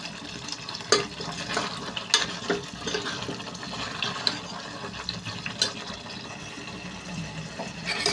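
Cashew paste curry being stirred in a pan, with soft scraping and wet bubbling at a steady low level and a few sharper clinks of the spoon against the pan.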